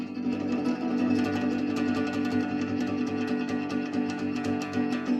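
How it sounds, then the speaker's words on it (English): Rapid tremolo strumming on a guitar, a continuous shimmering wash of fast repeated strokes across the strings, steady and close with no talking. "we're gonna try to work a little bit on tremolo."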